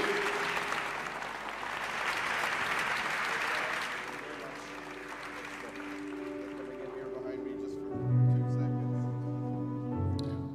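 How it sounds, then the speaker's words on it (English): Audience applause welcomes the EPP campaign head and Vice President onto a stage, a dense sustained clapping that swells then fades, giving way to music or tones near the end while a voice speaks over it. "a warm round of applause for our Vice President and the head of the EPP campaign to join me on stage"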